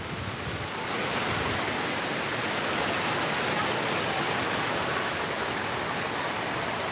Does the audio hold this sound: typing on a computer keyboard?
no